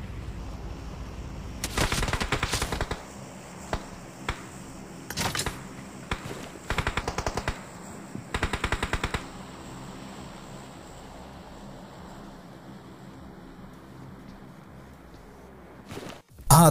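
Distant gunfire in the mobile game BGMI (PUBG Mobile) crackles in several short automatic bursts with pauses between, over a low ambient hum, ending in a sudden loud noise.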